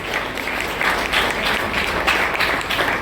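An audience at a gathering claps steadily and continuously, a dense, even wash of applause from many hands throughout.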